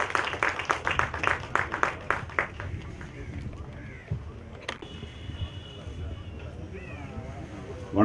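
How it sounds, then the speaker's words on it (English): Applause welcomes the CFO of Vivartana at a Bhoomi Pooja ceremony in Chennai: a run of sharp hand claps opens the stretch, then thins out as hall murmur and voices take over. "So with a round of applause, let us welcome the CFO of Vivartana,"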